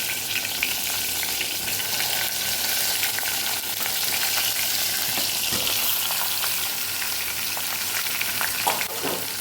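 Stuffed eggplant and potato, Kathiyavadi style, drop into hot oil seasoned with asafoetida and sizzle steadily and loudly, with scattered stirring clatter and no speech throughout.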